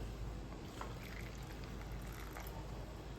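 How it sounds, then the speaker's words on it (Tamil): Boiling water poured into red rice flour for sivapparisi puttu, a steady continuous splashing pour at close range with no one speaking. "நல்லா கொதிக்கிற தண்ணி தான் ஊற்றணும்"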